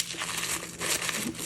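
Tissue paper crinkling and rustling as a wrapped package is opened, a continuous close crackle with small swells in intensity.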